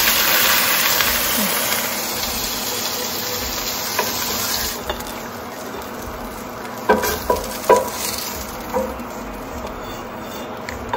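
Food sizzles in leftover oil from frying fish in a pan, a constant close crackle broken by several sharp scraping knocks of a spatula stirring, with no talking.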